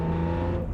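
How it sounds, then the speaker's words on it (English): BMW E86 Z4M engine pulling through the gears with its airbox induction note, a steady tonal drone that tails off briefly at the end. "Especially with that airbox, you just get through the gears, enjoy that induction note"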